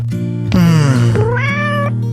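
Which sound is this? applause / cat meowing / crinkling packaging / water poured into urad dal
cat meowing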